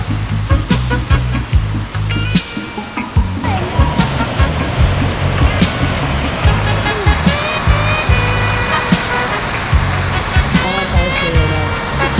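Flowrider artificial surf wave machine at a waterpark, a constant rushing roar of churning water, loud and close, with voices and splashes mixed in.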